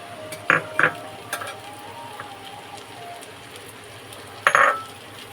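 Onions frying in butter in a pan, a soft continuous sizzle with a few sharp spatula scrapes and clatters near the start and again near the end.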